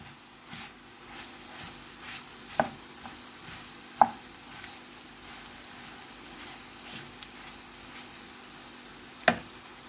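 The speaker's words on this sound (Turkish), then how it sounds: "pirinçlerim iyice kavruldu" Rice toasting in a pan for chickpea pilaf, a quiet continuous sizzle punctuated by occasional sharp scrapes and taps of a spoon against the pan; close up, no talking.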